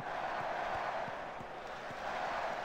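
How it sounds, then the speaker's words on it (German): Simulated stadium crowd in Football Manager 2022, a steady broad roar of fans with loosely timed, uneven clapping beats spread through it, continuous and fairly distant. "Rhythmus unserer Fans ist auch nicht so geil. Also klatschen alle sehr unterschiedlich."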